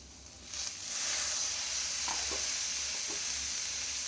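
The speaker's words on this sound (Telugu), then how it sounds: "ఉల్లిపాయ ఏగుతుందండి" Onions frying in a pan give a steady, close sizzle that swells after a moment and stays constant, with a few faint stirring taps.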